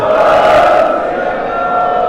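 A large crowd shouts the Sikh jaikara chant in unison, voices blending into one loud, roaring call that holds for a couple of seconds.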